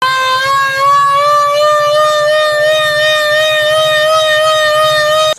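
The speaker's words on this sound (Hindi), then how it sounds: "ये चेक करें, ये सायरन चल रहा है आजकल।" An old civil defense siren in Punjab wails in a steady, loud tone that holds at one pitch without rising or falling, with a faint low rumble beneath it and no voices.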